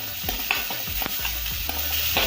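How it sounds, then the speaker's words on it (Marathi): Chilli, onion and tomato sauté in a pan, a continuous sizzle broken by a few scraping stirs of a spoon at a quick, uneven rhythm, close and fairly loud with no talking. "आता चांगलं परतून घेऊया।"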